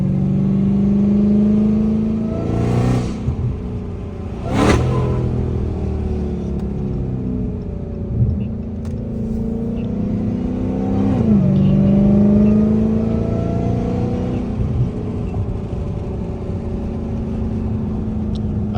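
A Dodge Charger Hellcat rumbles and revs with supercharger whine, heard from inside as the engine rises and falls in pitch through several pulls, loud and continuous with no talking.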